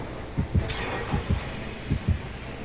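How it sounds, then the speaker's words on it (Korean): Heartbeat effect from the game Dead by Daylight, three pairs of low thumping double beats in a steady rhythm, with a brief higher whoosh early on and no speech. "왜심장 소리가 들리는 거야?"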